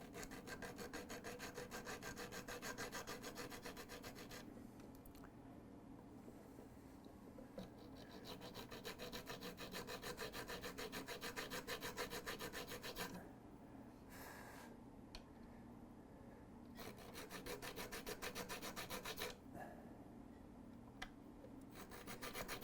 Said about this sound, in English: it takes a little bit more filing than usual, but the small fine file will do it